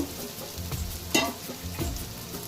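Spice masala sizzling in a pan for crab bhuna, with steady broadband frying hiss and several soft scraping stirs, one sharper clatter near the middle; close and moderately loud, no talking.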